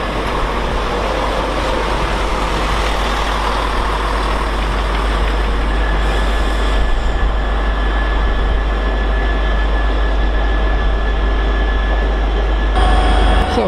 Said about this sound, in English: Next to arrive in is 17110, working the cross-country service from Birmingham New Street to Cambridge.